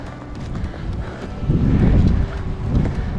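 Strong wind in the Provençal village of Boulbon buffets the microphone with low rumbling gusts that swell midway, outdoors with no talking.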